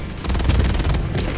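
Patriot mech suit in Helldivers 2 unloading its rockets at a Leviathan: a loud, continuous barrage of rapid launches and booms, dense and rumbling throughout.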